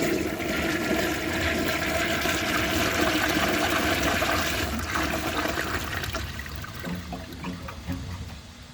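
A 1969 American Standard Madera toilet flushes on low water pressure, a loud steady rush of water that holds for several seconds, then thins into trickling and gurgling refill as the bowl drains.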